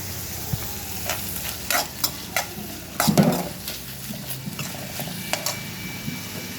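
Vegetables are sautéed in a pan, giving a continuous sizzle broken by repeated scrapes and clinks of a utensil stirring against the metal, close and fairly loud with no talking.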